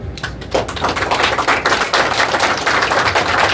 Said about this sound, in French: on a applaudi plus fort, s'il vous plaît, mesdames et messieurs.